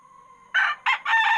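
A rooster crows close by in three loud, drawn-out bursts, the first and last longest, after a brief faint tone.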